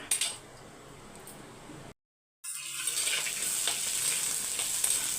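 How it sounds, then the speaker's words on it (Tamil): Vegetables sautéing in hot oil in a pan, a steady close sizzle with spoon scrapes, broken by a brief silent gap before the frying hiss returns louder. "நல்லா வதக்கி விட்டுருங்க ஒரே பக்கமாக விட்டுட்டிங்கன்னா ஒரே பக்கமாக வதங்கும்"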